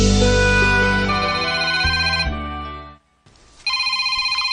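A cellphone ringing with a loud electronic melodic ringtone that fades, pauses briefly, then starts again with a brighter repeating tone.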